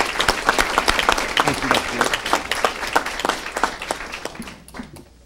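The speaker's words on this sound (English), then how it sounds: "We want to applaud you" An audience at a Haywood County Schools board meeting in North Carolina applauds with steady, dense clapping that thins and fades toward the end, while a voice speaks briefly.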